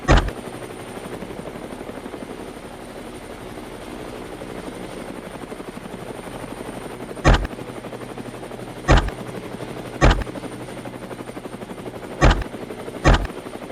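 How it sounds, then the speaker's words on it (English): Helicopter flying low over treetops during a feral hog hunt, a steady loud rotor drone with several sharp gunshot-like bangs cracking through it near the end. "The roar of the helicopter shakes the treetops"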